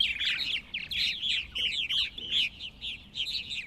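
Purple martins chatter in a rapid, continuous stream of high gurgling chirps and warbles, fairly close, over a low rumbling background.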